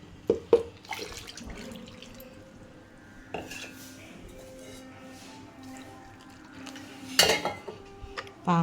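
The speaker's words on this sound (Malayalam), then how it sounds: "പാകത്തിന് വെള്ളം ചേർത്ത് കൊടുത്തു." Water is poured into a pot of fish curry with ground masala and tamarind, with splashing and trickling among clinks and clatters of metal pots and utensils, fairly quiet overall.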